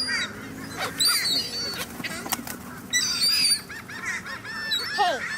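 Geese honking loudly and repeatedly while being fed, several overlapping calls in bursts, close by and continuous, with little talk.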